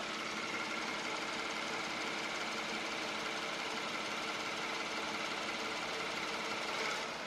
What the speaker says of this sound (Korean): 진짜 엔진룸을 열어놔도 확실히 조용하다는게 느껴집니다.